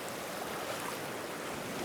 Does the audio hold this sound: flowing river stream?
yes